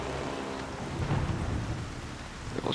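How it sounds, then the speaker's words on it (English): Thunder from a lightning strike during a rainstorm in the stealth video game Splinter Cell Pandora Tomorrow. A deep rumble swells and rolls under steady hissing rain, with no voices. "So we only move after a lightning strike."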